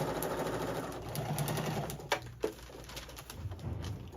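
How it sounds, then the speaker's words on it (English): A sewing machine runs without thread as a child practices straight lines, a steady close whir with a few brief louder clicks partway through, and no talking. "She's sewing without thread."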